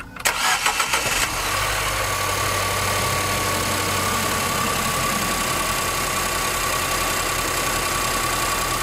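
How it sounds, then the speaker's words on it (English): A car engine cranks with a short rattling burst from the starter, then catches and settles into a steady, loud, even idle that continues to the end. "So let's start the engine now"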